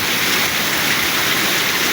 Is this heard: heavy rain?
yes